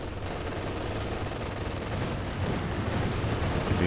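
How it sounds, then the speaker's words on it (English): Machine-gun fire in the World War II strategy game Company of Heroes 2 during a 2v2 match: a dense, unbroken rattle and low rumble of battle, steady and loud throughout. "But they're running straight into the machine guns once again."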